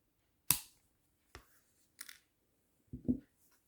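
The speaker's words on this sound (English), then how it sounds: "We're going to cut that wire too." Jewellery wire snipped with cutters while making a wire-wrap pendant: four sharp, crisp clicks spaced about a second apart, the last a slightly doubled snap, close and fairly quiet with silence between.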